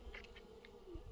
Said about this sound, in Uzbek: mana shu arilar yuribdi hali ham